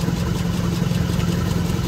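An antique tractor engine running at a farm tractor show while cutting wood shapes, a steady low rumbling idle with an even throb, close and loud throughout.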